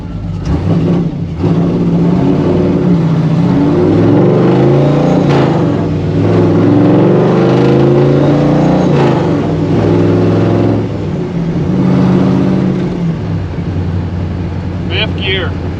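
The engine of a 1955 Chevy Nomad gasser drones and revs in repeated surges while driving, loud and close, with someone talking over it for much of the time.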